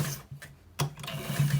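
A sewing machine stitches a two-inch trouser waistband in short bursts of fast, close mechanical whirring with brief pauses between runs.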